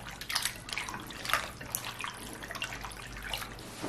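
Clean water runs and splashes over sliced fish being rinsed in a kitchen, a steady close gush with small irregular splashes and no talk.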